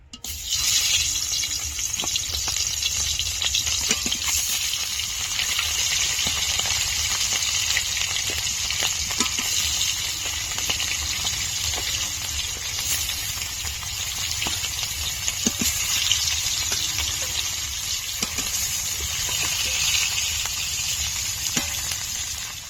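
Small parshe fish frying in hot oil in a wok, a steady loud sizzle with crackling pops running continuously throughout, with no speech.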